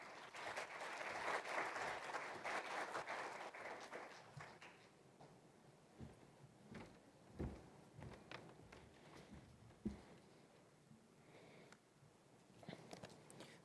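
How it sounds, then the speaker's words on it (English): Audience applause at a special event on sustainable forests and bioenergy, a steady crowd of clapping for about four seconds that thins out into scattered claps, footsteps and shuffling movement. "please be generous in your applause"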